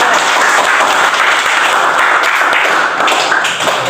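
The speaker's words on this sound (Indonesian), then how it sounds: "Ya, tepuk tangan." A classroom group applauds after a discussion presentation, steady dense clapping that stays loud and even for the whole stretch with no voices over it.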